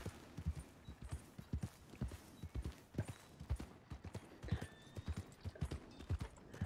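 Horse hooves clip-clop at a steady walking rhythm in the game Red Dead Redemption 2, close and distinct, with an occasional whinny and no talk over it.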